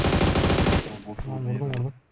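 Rapid automatic gunfire in a Turkish-played online shooter game bursts loudly for under a second, then gives way to someone talking over faint game sounds.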